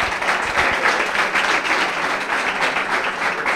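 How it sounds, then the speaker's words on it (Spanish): A strong round of applause at a book presentation in Barcelona, welcoming Karina, a congressional deputy: a thick, even roar of many clapping hands sustained throughout, with no talk over it. "También un fuerte aplauso para Karina, que es nuestra diputada en el Congreso"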